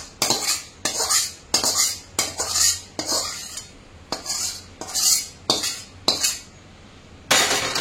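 A spoon stirring melted jaggery into a gond laddu mixture in a metal pan, giving a steady series of rhythmic scraping clinks, roughly one stroke per second, close and loud with no talk.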